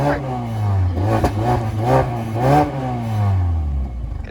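Engine of a stock 200-horsepower Mazda 6 revving up and easing off, a steady, close mid-pitched drone that rises and falls in pitch over a few seconds, with no talking over it.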